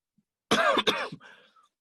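A single harsh cough, close and loud, two quick bursts followed by a raspy trailing breath.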